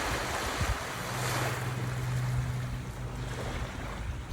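Sea waves wash onto a Palm Island beach, a steady broad rush of surf mixed with wind buffeting the microphone, continuous and moderately near.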